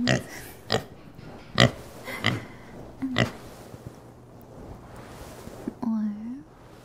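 Several short, sharp synthetic Minecraft pig oinks in an irregular sequence, ending with a longer squealing grunt, close and fairly loud.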